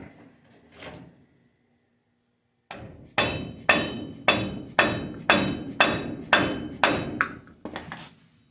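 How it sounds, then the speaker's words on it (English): A hammer strikes a wheel stud installer on a 1955 GMC axle, nine evenly spaced metallic blows after a brief quiet, close and sharp, each ringing slightly before the next. "Start off with a couple small taps."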